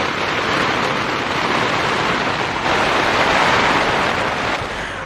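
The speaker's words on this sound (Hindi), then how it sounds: "We have to close this window क्योंकि अभी बहुत बारिश हो रही है एंड पानी आ रहा है अंदर।" Heavy rain pours outside a window at a campsite during a downpour, a dense, loud, continuous hiss and patter with no clear talk.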